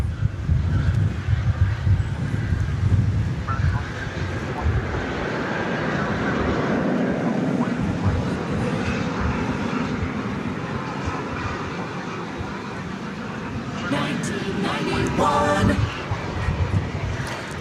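A 32-year-old McDonnell Douglas MD-11 jet at Dallas Fort Worth airport at night gives off a continuous rumbling engine roar at moderate distance, swelling slightly toward the end.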